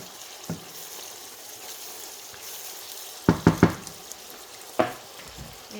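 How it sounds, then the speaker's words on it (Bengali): Chicken curry masala sizzles softly in a pan for Bengali Sylheti chicken and potato curry. A steady low frying hiss runs throughout, broken by a few sharp scraping knocks of stirring near the end, with no talking. "আমি নাড়াচাড়া দিয়ে আর চিকেনটা দিয়ে দেবো।"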